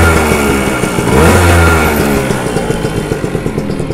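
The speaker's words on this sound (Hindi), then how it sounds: "बाइक में जो साउंड था बहुत ही कम गया है" A two-stroke motorcycle engine runs steadily up close, a buzzy, rattling idle with a brief rev early on, loud and alone.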